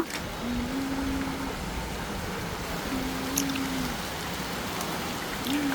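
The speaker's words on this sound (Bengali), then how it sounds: "এই যে এখানে তো অনেক বৃষ্টি হইতেছে" Heavy rain pours steadily outside a house, a dense, even hiss that holds through the whole stretch with a faint tonal hum drifting in and out.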